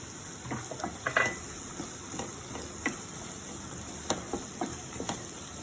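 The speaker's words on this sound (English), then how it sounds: "We're going to add onions in this." Finely chopped onions fry in a pan with tomatoes. A soft, quiet sizzle runs throughout, broken by scattered light clicks and taps of a utensil against the pan, with no voices.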